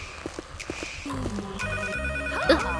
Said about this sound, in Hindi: शायद फोन बज रहा है।